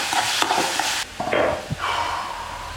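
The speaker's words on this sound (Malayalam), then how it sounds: "നല്ലോണം സവാള ഒന്ന് വഴണ്ട് വരുന്നത് വരെ നമുക്കിതൊന്ന് ഇളക്കി കൊടുക്കാം" Sliced onions sautéing in a pan, stirred until browning for a chutney: sharp scraping spoon strokes over a bright sizzle, close and loud, with short pauses between stirs and no speech.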